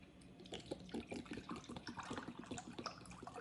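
White and apple cider vinegar poured into a pan for pickling eggs, a faint, continuous trickling and splashing of liquid with a quick bubbly pulse, close by and without speech.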